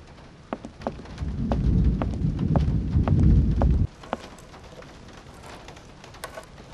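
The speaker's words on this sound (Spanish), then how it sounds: "Sigue lloviendo mucho. Esperaré a que se calme la tormenta antes de salir." Heavy rain and a thunderstorm in the video game Syberia: a steady loud downpour with scattered sharp drips and cracks, swelling to a roaring wash that cuts off abruptly, leaving a quieter patter with occasional drops.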